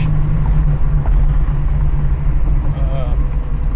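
A 1971 Plymouth Cuda's roughly 500-cubic-inch wedge V8, built from a 440, rumbles at a steady idle with a deep low throb, while someone talks over it.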